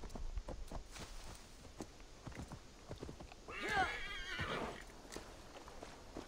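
Horse hooves clip-clop across the Assassin's Creed Valhalla game world, with a whinny rising in the middle; steady mid-distance footfalls play under game ambience, with no talking.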